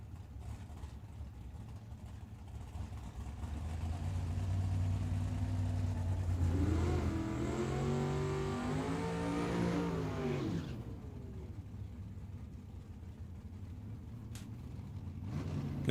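Drag racing cars, including a Camaro, accelerate hard down the Tucson Dragway, their engines rising and sweeping upward in pitch over several seconds before fading, heard from trackside at moderate distance.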